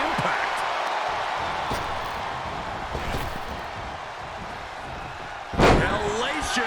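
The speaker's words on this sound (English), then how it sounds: "Hellacious power slam." A power slam lands in the wrestling game WWE 2K23, giving one heavy thud near the end over steady arena crowd noise and commentary voices.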